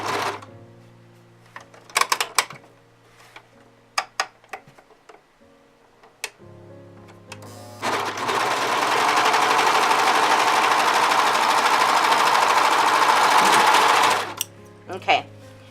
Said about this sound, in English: I serged the whole side of my shirt.